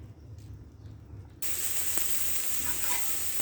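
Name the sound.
soya chunks frying in oil with salt in a kadai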